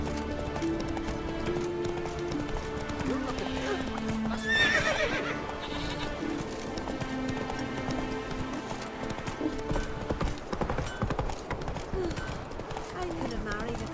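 Roach, a horse in the video game The Witcher 3, galloping, heard as rapid rhythmic hoofbeats with an occasional whinny under game music and a voice speaking.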